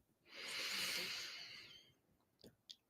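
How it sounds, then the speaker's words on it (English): A single slow, soft inhalation through the nose during a guided meditation, rising and fading over about two seconds, followed by faint small clicks in a quiet room. "breathing in and bringing with you all of these frequencies and energies"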